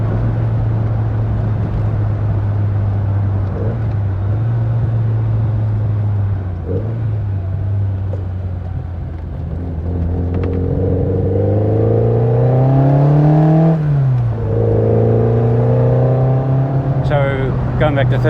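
A Lotus Elan engine drones loud and steady inside the car during heel-and-toe downshifts, its pitch dipping and swelling with short rev blips as gears change, rising sharply near the middle before settling again.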